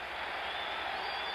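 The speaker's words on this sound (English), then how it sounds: "And listen to this crowd." Stadium crowd roaring after Yastrzemski's three-run pinch-hit home run at the 1975 MLB All-Star Game in Milwaukee, a dense, sustained wash of cheering and applause that stays loud and even through the whole moment.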